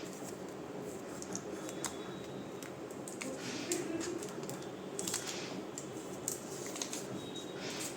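Close, faint crinkling and rustling as a new Vivo V40e smartphone is unwrapped, with soft scattered clicks and squishes of packaging over a steady low hiss.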